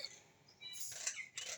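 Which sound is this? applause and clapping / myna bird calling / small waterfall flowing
myna bird calling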